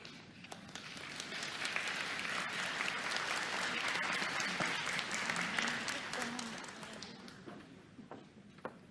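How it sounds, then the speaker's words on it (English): Sustained audience applause from a crowd at an Assembly of First Nations annual general meeting, a dense steady wash of many hands clapping for about nine seconds, with some voices murmuring underneath. "Can we give them another round of applause, please?"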